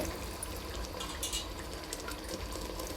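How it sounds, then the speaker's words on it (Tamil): Water pours steadily into a pot of fried chicken for dum biryani in a continuous splashing rush, close by, with no talking. "நாலரை தண்ணி ஊற்றணும்"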